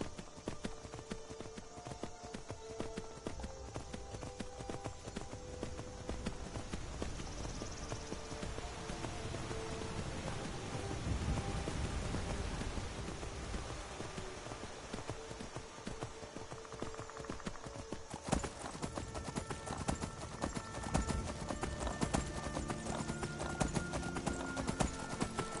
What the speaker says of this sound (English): we got a horse, that's pretty cool